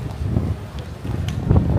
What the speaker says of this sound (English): I'm going to put my mic on in a minute because it's very windy